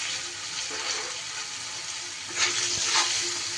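Sliced rounds of bitter gourd fry in an oiled pan with salt and turmeric, a soft continuous sizzle that flares briefly louder as the pieces are stirred, no talking.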